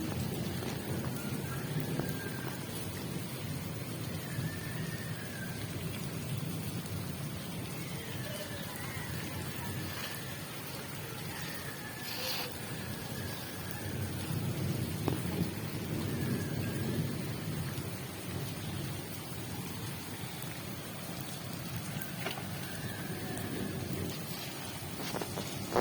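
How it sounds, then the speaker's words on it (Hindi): Heavy rain pours steadily throughout, with low rumbles of thunder rolling underneath and a few brief sharper sounds. "फिर शुरू होगी बारिश, पहले स्लो हो गई थी, अब फिर शुरू हो गई,"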